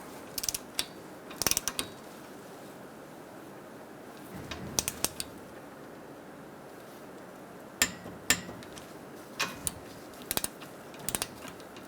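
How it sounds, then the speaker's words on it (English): A torque wrench tightening bolts on the A/C condenser of a 2012-2017 Hyundai Accent clicks in short, sharp bursts of ratcheting, spaced apart over a quiet background with faint mechanical handling sounds between. "We're going to torque these to 96 inch-pounds."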